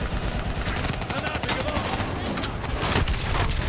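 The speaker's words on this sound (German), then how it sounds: "Ja, so ist eine Explosion." Explosion and gunfire as a VTOL transporter is shot down in the Call of Duty Black Ops 3 campaign, a dense continuous roar of rapid shots and booming blasts with battlefield noise throughout.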